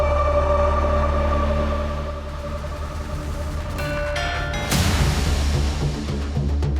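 An ambulance siren wails steadily and loudly, its tone rising and falling, with a sharp change in pitch near the end.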